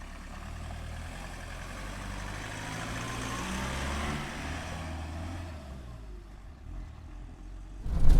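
A James Bond Spectre edition Land Rover Defender 110 on the move gives a low, steady engine rumble that swells slightly and fades, then a sharp thump at the very end.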